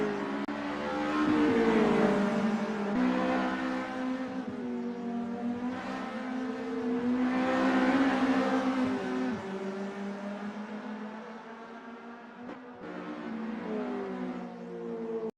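VW GTi Challenge race cars in a circuit race, engines droning and shifting pitch as they chase and overtake, a steady loud roar that swells as cars pass and fades slightly, with no talk over it.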